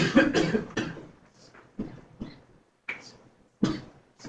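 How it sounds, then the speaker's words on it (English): A sick person coughs repeatedly, several harsh, separate coughs with short gaps between them, close and fairly loud, with a throat-clearing quality. "I don't wish this cough on you guys."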